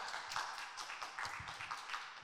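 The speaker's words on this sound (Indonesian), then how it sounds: "Tepuk tangan ini untuk Mas Robi ya." Clapping from a small audience applauding a performer who has just sung a devotional song in a classroom setting, steady and fairly faint, sustained throughout.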